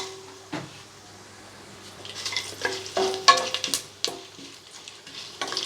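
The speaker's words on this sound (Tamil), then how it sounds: "இதை நெய்யில் ஒரு 2 நிமிஷம் போல் நல்லா வதக்கி விட்டுக்கலாம்." Cloves, marathi moggu, mace, cardamom and star anise fry in ghee in a pressure cooker for biryani, a soft sizzle broken by several sharp spoon scrapes and clinks in uneven bursts.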